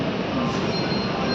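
The Tirumala Express rumbles into Rajahmundry station, running late, with a steady, loud rolling clatter of rail cars filling the moment, no pauses and no voices.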